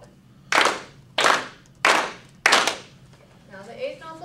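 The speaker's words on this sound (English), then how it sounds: "we're going to clap 4 quarter notes, since each one only gets 1 beat" Four even hand claps in a steady beat during a music lesson on quarter notes, loud and close, followed by a brief soft voice.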